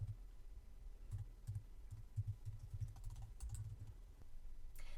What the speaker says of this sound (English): So give me a second to type that in.